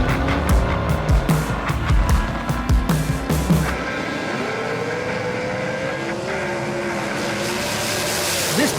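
Custom diecast toy race cars running on a track, a rapid clatter of plastic-and-metal rattling and clicking for the first few seconds, then a steadier whirring hum as the cars settle.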